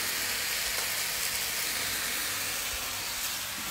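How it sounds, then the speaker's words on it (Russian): A steady, faint hiss and sizzle of chicken cooking in a dry pan without oil, continuous with no talking. "Вот на сковородку, и вот так кладете потом курицу."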